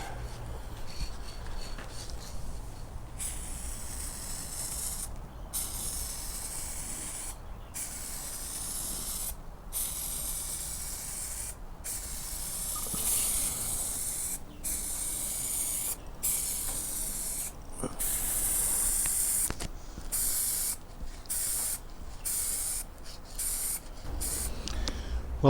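Outdoors on a calm day, a spray can coats the front of a 1941 AWA Fisk Radiola Model 276 radio cabinet in repeated short hissing bursts separated by brief gaps, fairly close and steady, with no voices.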